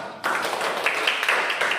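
A classroom group claps for group 3's presentation, a dense burst of applause that starts suddenly and holds steady for under two seconds.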